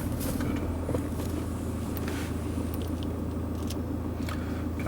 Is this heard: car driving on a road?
yes